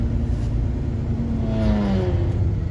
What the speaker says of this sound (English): That guy's still revving up his engine?